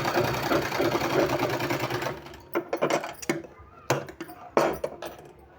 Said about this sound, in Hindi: हल्का हल्का बिल्कुल पकड़ के सिलाई लगाते जाएं